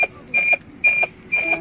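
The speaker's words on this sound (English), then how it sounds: "And now we hear a sound, beep beep beep. This sound actually the signal come from satellite" Downlink beeps from the NOAA 18 weather satellite, picked up by a ground receiving station: a steady high tone pulses in three long evenly spaced beeps, clear and close, over faint static.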